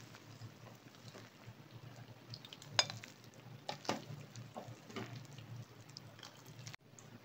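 Cooked pasta is lifted out of a pot into a bowl for a white sauce pasta. Quiet scraping and a few light metallic clinks of the utensil against cookware come over a low background hum.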